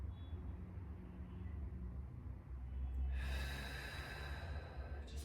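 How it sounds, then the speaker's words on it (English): During a guided breathwork practice, a person takes a long, deep breath in. It starts as a low, quiet rush and swells into a louder, close airy inhale partway through. "Just breathing that in."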